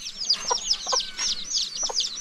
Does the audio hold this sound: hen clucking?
yes